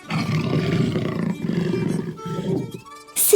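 A lion pacing in circles gives a long, loud, close roar that rolls on for about three seconds, then a brief sharp noise at the end.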